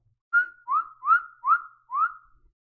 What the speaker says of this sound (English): Oh, come on, ref. Blow the whistle.